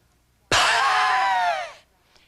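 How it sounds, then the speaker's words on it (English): A single diaphragmatic breath pushed out through closed lips, a loud close wheezing exhale lasting just over a second, starting abruptly and tapering off, alone without speech. "You'll notice the wheezing sound."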